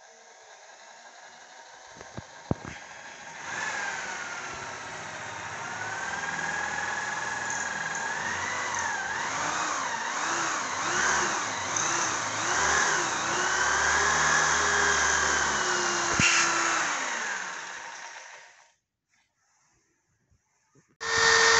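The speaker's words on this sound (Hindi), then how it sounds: "और ड्रिल के साथ हम इसके अंदर अब सुराख करेंगे।" An electric drill bores holes into a wall while an LCD mount is installed, a sustained whirring, grinding drone with pitch shifts lasting about fifteen seconds, close and loud, then it stops, followed by a sharp knock at the end.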